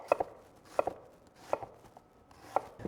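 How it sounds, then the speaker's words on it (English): Onion, carrot and celery are chopped for mirepoix, a knife striking a cutting board in separate crisp knocks at an uneven pace, some doubled, close and fairly quiet. "These are all getting broken down to roughly the same size"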